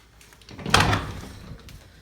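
Doors swinging open into a room holding a large Lego collection, a single soft swish and rattle rising to a peak and fading over about a second, fairly quiet and close.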